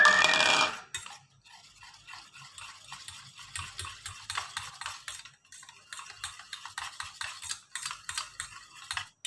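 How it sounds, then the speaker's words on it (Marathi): Kadhi batter of curd and water whisked in a bowl: after a brief bright opening burst, a quick irregular patter of light clicking whisk strokes runs throughout, close and fairly soft, with no talking. "आता हे मिश्रण छान फेटून तयार आहे."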